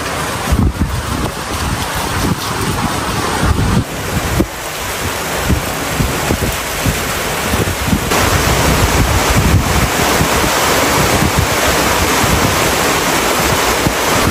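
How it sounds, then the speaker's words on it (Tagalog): Sudden heavy rain falls over rice paddies as a dense, loud, unbroken hiss with some gusty rumble. It stays steady and close throughout. "Bigla na pong umulan ngayon"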